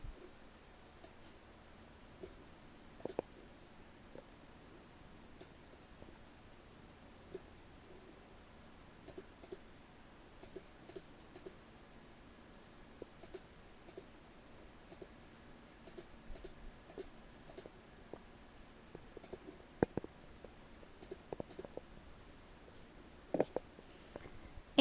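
Computer mouse clicking during work in an odds comparison tool: faint, sparse, sharp clicks scattered irregularly over a quiet room hum, alone without speech.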